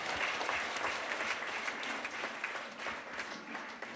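A church congregation applauds during a worship service, a dense, even wash of many hands clapping that holds at steady volume for a few seconds.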